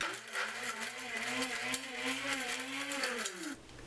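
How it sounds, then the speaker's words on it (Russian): Small electric spice grinder whirring steadily as it grinds whole coriander seeds, a buzzing motor whine with rattling seeds that rises and falls slightly for about three and a half seconds before cutting off, close and without talk. "Я беру в зернах, так как перемалывать будем. Измельчаем."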